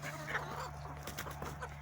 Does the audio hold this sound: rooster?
yes